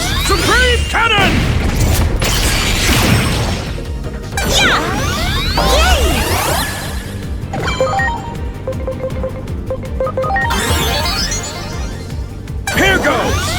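Supreme Cannon attack effects from the video game Digimon Story Time Stranger: a dense, loud barrage of booms, crashes, whooshes and metallic impacts roll on continuously, with occasional sharp cuts between blasts.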